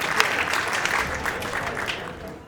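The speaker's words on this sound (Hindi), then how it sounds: "जोरदार तालियों से इन्हें आमंत्रित करिए" An audience at a Hindi poetry gathering bursts into loud applause welcoming a poet to the stage, a brisk, dense clatter of many hands close by that thins slightly toward the end.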